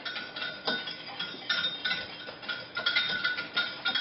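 A leche flan mixture of sugar and other ingredients being stirred in a bowl, a spoon or whisk clinking and scraping against the sides in a quick, steady rhythm, close and fairly loud.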